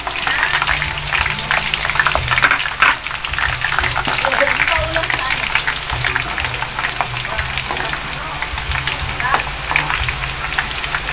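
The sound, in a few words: garlic frying in a pan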